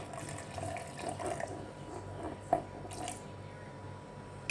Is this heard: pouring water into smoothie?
yes